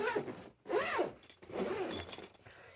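A zipper is pulled shut on a Lekato guitar pedal board bag in several rising and falling strokes, close and clear with no talking.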